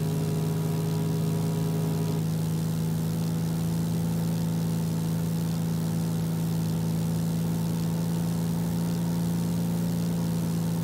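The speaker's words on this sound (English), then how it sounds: "I'm over revving the motor" A steady over-revving aircraft engine drone in X-Plane 11 with a strong low hum and whining harmonics, sustained throughout at a high, constant pitch, without voices.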